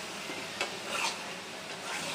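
Snake gourd curry sautés in oil with a soft, faint sizzle, while a spoon scrapes and stirs in a few quiet strokes against the pan.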